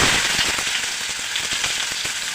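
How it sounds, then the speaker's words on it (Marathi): Finely chopped onions drop into hot oil with mustard seeds and curry leaves and fry with a loud, dense, steady sizzle and crackle, close up, with no talk, for the whole short clip. "तीन मध्यम आकाराचे कांदे बारीक चिरलेले आहेत ते आता घालत आहे"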